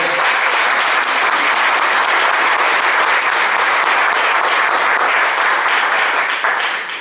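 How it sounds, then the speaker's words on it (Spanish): Church congregation applauding during a sermon, a sustained wash of dense applause from a large crowd, loud and even for several seconds before easing slightly at the end. "Denle un aplauso a nuestro Dios."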